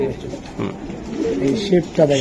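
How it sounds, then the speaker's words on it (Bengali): Racing pigeons at a market cooing in low, throaty warbles, close and repeated, mixed with people talking nearby. "এই যে দেখছেন আপনারা কবুতর কোনটা নিবেন"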